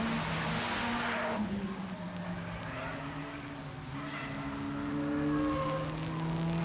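Stock cars race on a short oval track at Grand Bend, engines droning and rising in pitch as they pass, with a faint tire squeal amid the distant, continuous roar.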